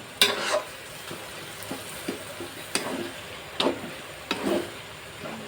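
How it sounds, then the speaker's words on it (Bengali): Lote fish being stirred and fried with garlic and chili in a pan: a low, steady sizzle is broken by a handful of sharp scrapes and knocks of the spatula at uneven intervals, close up. "আমি বারবারই নাড়বো আর শুকাবো।"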